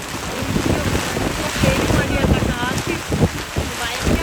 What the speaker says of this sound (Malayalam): കാറ്റ്, ഭയങ്കര കാറ്റും നല്ല മഴയും.